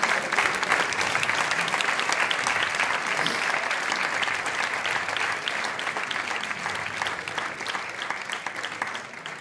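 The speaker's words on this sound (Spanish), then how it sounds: "este aplauso también es para él" A gala audience applauds for several seconds, a dense, even clapping crowd that holds steady and tapers slightly at the end.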